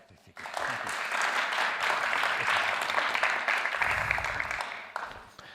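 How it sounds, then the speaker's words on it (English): Audience applause for a lecturer arriving at a talk on surgical trials, a dense, steady wash of clapping from a hall crowd that starts abruptly, holds for about five seconds, then tapers away. "So welcome and big applause for Mohit Bhandari."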